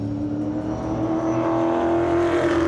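A single race car, number 19, running on the Hythe Motor Speedway oval during time trials, its engine a loud, close, steady drone that rises slightly in pitch as it holds speed.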